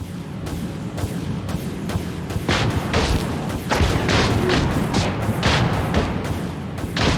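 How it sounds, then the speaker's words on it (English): Broadside ballistic guns firing in a space combat video game, a rapid, continuous barrage of heavy booming shots layered over a dense, loud rumble, with no talking. "Broadside ballistic guns have a lock."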